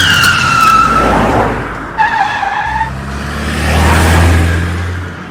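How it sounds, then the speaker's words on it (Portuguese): A car chase on a New York City street: engines rev and roar while tires squeal in long, loud skids, with a deep motor drone swelling toward the end. "vemos uma perigosa perseguição de carro."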